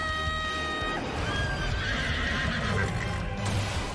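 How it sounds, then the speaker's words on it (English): A horse summoned during a Fate anime battle lets out a long, loud whinny over dense fight noise, with hoofbeats clopping beneath it. "She just summoned a horse?"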